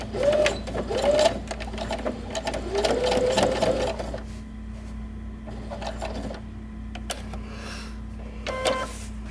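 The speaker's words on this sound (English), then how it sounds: "stitch down the short side and then stitch in the ditch and then stitch up the other short side" A sewing machine runs in close, steady bursts, whirring and stitching through layers of fabric for a popcorn pouch, then stops and starts with short pauses, clicks and handling noises between runs.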